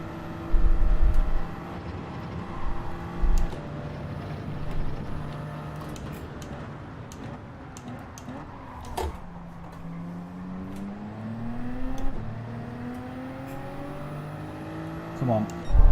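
A McLaren race car engine drones on a straight in Gran Turismo 7 at Grand Valley, a steady rising harmonic whine with gearshift breaks, while a person talks over it.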